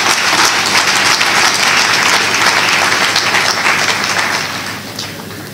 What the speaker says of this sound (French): je vous prie d'applaudir encore une fois le chœur Regina Mundi